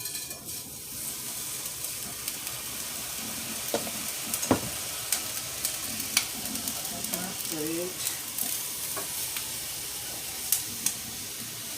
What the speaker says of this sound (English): And a 1/4 cup of water, and this is hot,